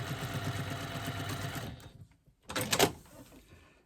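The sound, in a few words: sewing machine quilting a fabric panel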